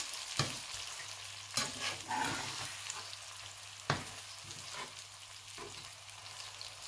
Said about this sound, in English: I will be stirring it.